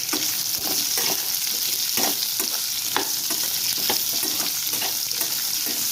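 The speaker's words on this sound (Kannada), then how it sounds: "ಚೆನ್ನಾಗಿ ಹುರ್ಕೋಬೇಕು ಮೂಲಂಗಿ ಎಣ್ಣೆಯಲ್ಲಿ" Peeled, round-cut radish slices frying in oil in a pan, a constant close sizzle with scattered scraping stirs; no talking.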